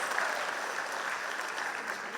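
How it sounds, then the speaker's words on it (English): An audience at a school annual day function applauds award winners, a steady wash of many hands clapping together at moderate distance, sustained evenly for a couple of seconds with no voices standing out. "Let us give a big round of applause"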